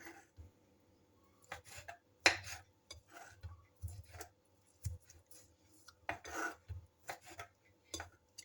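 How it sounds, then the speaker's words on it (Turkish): A knife chops through thawed, previously cooked meat taken from the deep freezer, giving irregular close-up knocks and scrapes of varying strength with short pauses between them and no voices. "şimdi şöyle eti de biraz doğru, doğruyorum"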